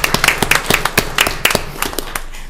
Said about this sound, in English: let's give Maureen and her board a big round of applause